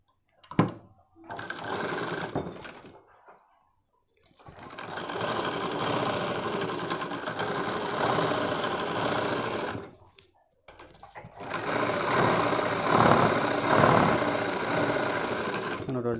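A sewing machine stitches a bra belt in two long close runs of rapid mechanical whirring, separated by short pauses, with a brief sound at the start.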